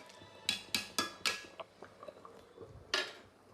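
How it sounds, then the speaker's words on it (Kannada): A metal tawa griddle is set on a kitchen stove with a run of sharp, close metallic clanks, four in quick succession, then quieter scrapes and one final loud clatter. "ತವಾ ಇಟ್ಟಿದ್ದೇನೆ, ತವಾದಲ್ಲಿ ಸ್ವಲ್ಪ ಎಣ್ಣೆ ಹಾಕಿದ್ದೇನೆ"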